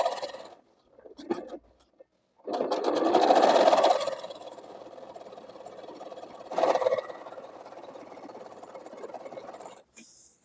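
A sewing machine stitches along the edges of a fabric handle for a pot bag, running in bursts of rapid whirring, a longer steady run after a few short starts, close and fairly quiet with no talk.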